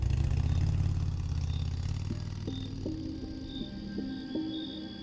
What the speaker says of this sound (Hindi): विकी ने बाइक चालू की।